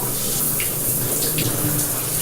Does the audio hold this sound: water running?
yes